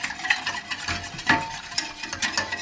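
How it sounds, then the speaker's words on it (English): A whisk scrapes and taps steadily against a pot as a sauce is stirred over medium heat on the stove, a close series of light metallic strokes with no talking. "we're going to whisk constantly until this gets thick"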